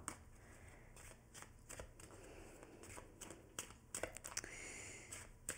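Tarot cards being shuffled and drawn by hand close up, a quiet run of soft riffling flutters and papery slaps with brief pauses between them and no voice.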